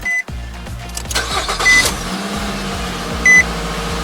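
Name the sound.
Nissan Rogue car engine starting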